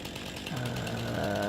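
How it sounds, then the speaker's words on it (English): A chainsaw engine in Farming Simulator 19 runs steadily, its buzzing pitch rising and revving partway through, loud and continuous with no voices. "Get our trusty dusty chainsaw out."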